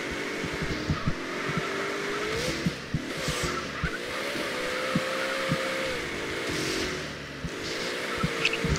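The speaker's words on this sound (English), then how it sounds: "Driving through the city." A car driving through a city in a video game, its steady engine drone rising and falling as it shifts, with occasional tire squeals and skids over a constant background hum, no talking.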